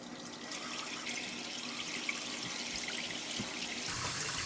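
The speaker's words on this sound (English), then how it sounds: "Oh, I can hear the bathtub running too." A steady, soft rush of water running from a newly installed Delta Corin wall faucet, with a bathtub also running. The hiss stays even and moderately faint throughout, with no one talking.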